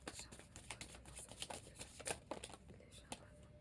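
Tarot cards are shuffled and drawn by hand, with a run of soft riffling flicks and taps close by while a person speaks quietly over them.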